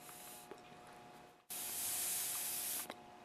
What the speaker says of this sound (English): Now I'm going to blow at the end of the fuel line and you should hear the air escape through the little holes in the screw there